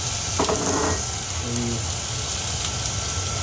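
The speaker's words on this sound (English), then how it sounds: "So I'll put the onions there, I'm going to simmer the onions." Onions simmering in a pan for chicken escalopes, a continuous rain-like sizzle with a few light clinks and scrapes of utensils, steady and close.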